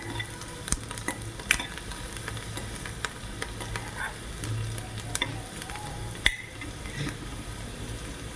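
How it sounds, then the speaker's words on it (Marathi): Onions sautéing in a pan for a spiced potato dish, a soft steady sizzle under sparse scrapes and clinks of a spoon stirring against the pan. "कांदा छान परतून झालेला आहे"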